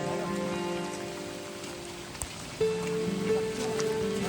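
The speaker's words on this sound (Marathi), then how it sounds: "पाऊस पडतोय आणि ट्रेक चालूच आहे." Steady rain falling in thick fog on a mountain trek through Ganesh Ghat toward Bhimashankar, a soft continuous patter with a faint tonal hum running beneath, no talking.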